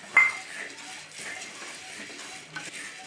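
Lentils and peanuts roasting in oil in a pan make a faint, soft stir and scrape, with a sharp clink of a utensil on the pan near the start and another light knock later.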